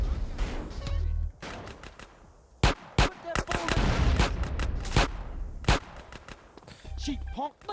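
Grenade blast and gunfire during a gang shootout in GTA: San Andreas: a string of sharp, loud cracks and booms in irregular bursts, with a heavier explosive thump among them and shouted game dialogue in places.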